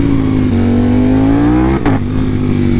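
A Ducati Panigale V4S sport motorcycle with a stage 1 remap revs, a loud, close, steady engine drone that climbs in pitch, drops briefly with a blip, then holds.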